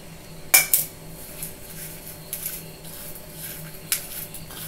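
Moong dal mixed with cardamom and coconut in a bowl gives a few sharp utensil clinks and scrapes against the dish, spaced irregularly over a quiet kitchen background.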